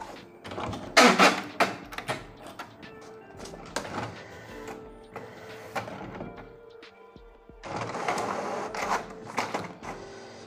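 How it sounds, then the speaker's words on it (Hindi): An HP Ink Tank Wireless 416 inkjet printer runs its automatic test page: irregular mechanical clunks and thunks with whirring paper-feed passages, ending in a longer steady burst of motor noise. No one speaks. "जैसे ही पेपर लगा लें तो कुछ सेकंड के बाद एक ऑटोमेटिक टेस्ट पेपर के लिए ये जाएगा, पेपर एक प्रिंट होगा"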